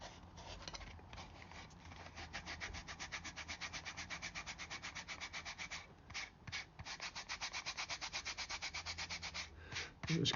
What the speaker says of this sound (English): Just keep rubbing on it, and eventually you'll be rid of it all.